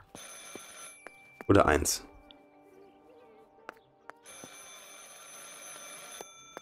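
A telephone rings in the Martha is Dead video game, a bright electric bell burst followed by steady ringing tones, with someone speaking German quietly over it.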